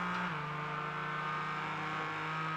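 Two Porsche race cars battling in a racing video game, a steady loud engine drone with a sustained high rev tone that drops in pitch as a gear shifts, no voices.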